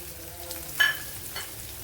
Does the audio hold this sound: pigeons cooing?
no